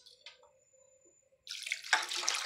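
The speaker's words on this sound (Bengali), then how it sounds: "এখন আমি এটা আর একটু জল দিয়ে ধুয়ে নিই ভালো করে।" Broken wheat (dalia) being rinsed: after a quiet opening with faint clinks, water suddenly gushes and splashes loudly and steadily over the grain close by, with no voices.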